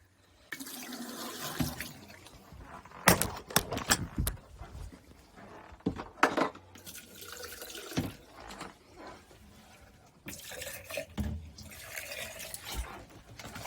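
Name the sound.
pouring RV antifreeze into the P-traps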